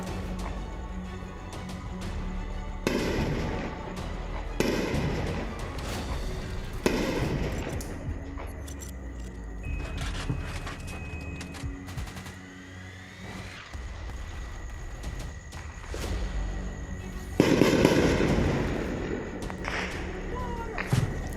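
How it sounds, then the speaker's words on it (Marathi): Repeated distant booms and sharp cracks of explosions and gunfire along the India-Pakistan Line of Control amid drone attacks, irregularly spaced over a low background rumble. "स्फोटांचे आवाज येत आहेत गोळीबारांचे आवाज येत आहेत"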